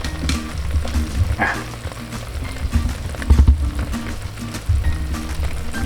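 Barbecue-marinated Kurobuta pork ribs sizzle inside an air fryer, a steady crackling fry with bubbling pops and a few handling knocks, heard close up.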